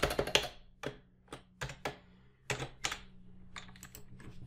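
Bursts of keyboard typing, quick clusters of key taps separated by short pauses, close and clear in a quiet room.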